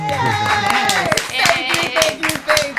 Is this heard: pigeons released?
no